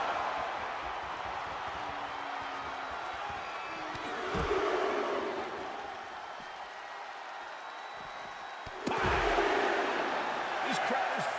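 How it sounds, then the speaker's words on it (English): A thunderous arena crowd in the WWE 2K25 wrestling video game keeps up a steady roar that swells in two louder bursts, broken by a few dull impact thuds. "This crowd is thunderous right now."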